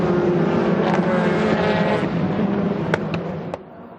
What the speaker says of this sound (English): as the lights change, he doesn't move, while fellow BMW driver Stefano D'Aste makes a perfect start